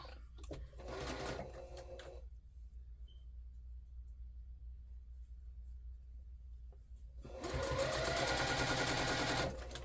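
A sewing machine stitches small quilt block pieces for a Mystery Star block-of-the-month quilt, running in two close, steady mechanical bursts, one early and a longer one at the end, with a quiet pause between them.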